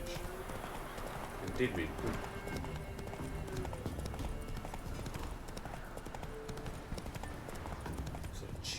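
Roach the horse's hooves clip-clop steadily through The Witcher 3 video game, a continuous trotting rhythm of moderate loudness running under a man's brief spoken line and game ambience.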